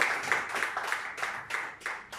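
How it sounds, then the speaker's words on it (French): Rhythmic applause at a press conference, about eight even claps in a steady beat, moderately loud and close, with no voices. "Sur vos acclamations, s'il vous plaît"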